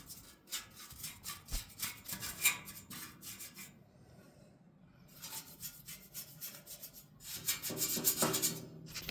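Someone rubs and scrubs a small PC case with rapid, rhythmic rasping strokes in bursts, pausing briefly partway before resuming more loudly, fairly close and without talk.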